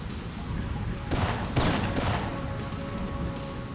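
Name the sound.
gunfire from the video game Syphon Filter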